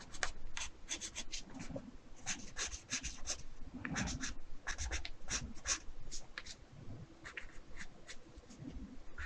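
A pencil sketches on paper in quick, irregular scratchy strokes, some in rapid bursts and others pausing briefly, all close and quiet.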